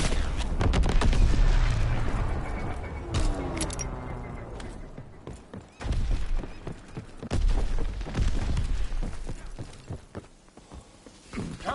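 Rapid bursts of aircraft strafing gunfire with heavy booms in the Call of Duty WW2 video game, loud and dense at the start, then returning in repeated volleys mixed with explosions.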